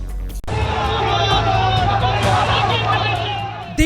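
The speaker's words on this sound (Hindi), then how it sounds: "चारों तरफ भीड़ के नारों की गूंज" A night street crowd presses forward chanting slogans, a dense roar of many voices with vehicle rumble underneath, loud and continuous.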